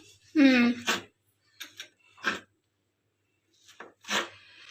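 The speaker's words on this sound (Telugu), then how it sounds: "ఇప్పుడు నేను ఇలా పీసెస్గా స్మాల్గా ఇలా చూడండి చిన్న చిన్న పీసెస్గా కట్ చేసుకుంటున్నాను" Knife chopping mango into small pieces for homemade mango ice cream, with a few short sharp cuts spaced through the clip between moments of quiet and a brief voice.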